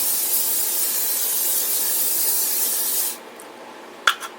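Extra virgin olive oil sprayed over a big batch of cut collard greens: a steady, fairly loud hissing spray for about three seconds, then quiet with a sharp tap and a faint rustle.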